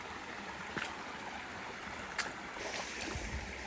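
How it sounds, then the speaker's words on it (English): Soft, steady rush of creek water cascading over rocks, faint and distant as heard from a nearby villa, with a few small splashes and knocks. "We can actually hear the sound of the water cascading over the rocks all the way from the villa."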